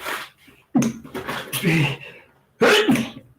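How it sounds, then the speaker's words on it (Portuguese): Several sneezes come in close succession, abrupt bursts of breath and voice near the listener, with short quiet gaps between them. "Espirrei de novo"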